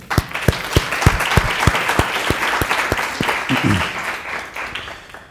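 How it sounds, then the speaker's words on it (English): A graduation audience claps after a valedictory speech, a sustained round of applause with sharp individual claps standing out near the microphone, holding steady before tapering slightly toward the end. "Please, let's give ourselves a round of applause"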